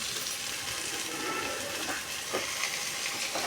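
Tomatoes dropped into a pan of frying onion and roasting coconut give a steady, hissing sizzle throughout, with a couple of brief louder crackles near the end.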